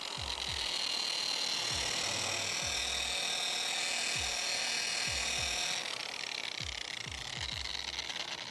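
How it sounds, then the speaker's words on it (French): A buffing pad polishes a metal workpiece to a mirror finish with a continuous high whirring drone, broken by repeated low thumps and knocks against the piece. "reprendre un tampon propre et venir enlever, bien sûr, l'excédent et polir pour donner une finition miroir"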